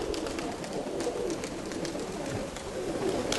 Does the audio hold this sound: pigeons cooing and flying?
yes